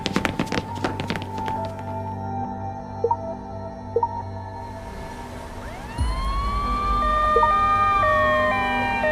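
Ambulance siren in the Life Makeover game, starting after a few soft taps and thunks and then rising into a loud, wailing siren sweep that holds steady to the end, with no voices.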